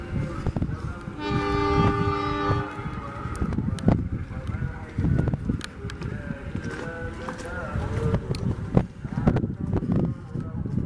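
An Atlas KPJR ballast-stone freight train rumbles past on the tracks with clattering wheels and a brief horn-like tone, while people talk nearby.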